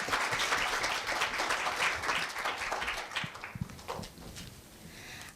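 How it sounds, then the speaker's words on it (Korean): A hall audience at a middle school students' speech festival gives dense, sustained applause that thins out and fades after a few seconds. "큰 박수 부탁드리겠습니다."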